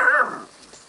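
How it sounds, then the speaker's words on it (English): A black Great Dane puppy gives one short, high whimpering yelp up close that fades quickly into quiet. "Ooh, cute little Black Great Dane puppies."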